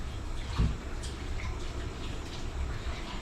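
Tap water running steadily into a bowl for soaking diced Idaho potatoes, a soft continuous splash and trickle with no talking over it.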